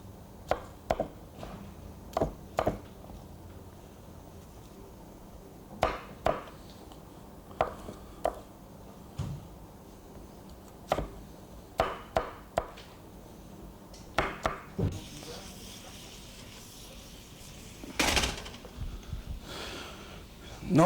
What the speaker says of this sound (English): And cut these in about 4 or 5 pieces.